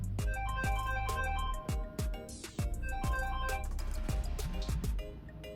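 A phone plays a melodic ringtone with an incoming call, a bright chiming tune of repeated notes that rings close and clear for several seconds, with no one talking.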